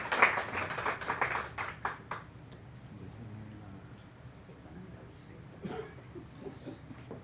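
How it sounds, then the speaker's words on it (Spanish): An audience at a poetry book launch breaks into applause, a dense patter of clapping that peaks at the start and fades within about two seconds, followed by quieter room noise and a few scattered taps. "Un aplauso, por favor."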